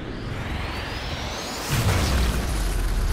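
An explosion in the video game Sniper Elite 4 goes off after a steady hiss, with a sudden rush that swells into a low, sustained rumble.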